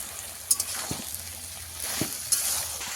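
Drumsticks and pumpkin being sautéed for a vegetarian curry, a steady soft sizzle in the pan broken by a few sharp scrapes and stirring clinks.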